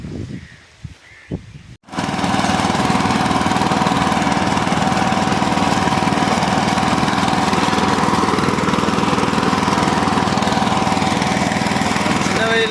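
A farm vehicle engine starts up and then runs steadily and loudly while ploughing a field, a constant close rumble after a few brief knocks at the start, with voices faintly underneath.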